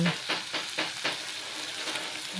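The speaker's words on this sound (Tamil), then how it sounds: "தக்காளியில் கொஞ்சம் கல்லுப்பு போட்டு நம்ம வதக்கி எடுத்துக்கலாங்க" Tomatoes with rock salt sauté in a pan with a steady close sizzle and a quick run of rhythmic stirring strokes, about five, before the frying hiss settles on its own.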